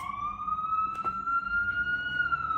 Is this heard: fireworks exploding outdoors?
no